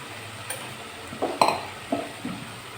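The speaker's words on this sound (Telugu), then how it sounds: "కూర ఒకసారి కలిపేసి" Cauliflower tomato curry being stirred in a pan, quiet scraping and a few soft clinks of a spoon against metal over a faint low sizzle.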